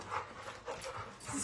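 Dogs pant and make faint whimpering sounds indoors, quiet and close, while people talk over them.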